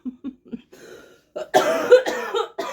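A few short throat sounds lead into a loud, harsh burst of coughing, several rough coughs close to the listener.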